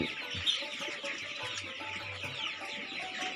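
Tiger-breed chickens cluck and call together at a poultry farm, a steady close chorus of overlapping clucks filling the clip with no talk.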